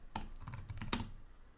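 Fingers typing on a computer keyboard while writing RPG code: a quick burst of close, crisp key clicks with uneven spacing, fading into a quiet pause at the end.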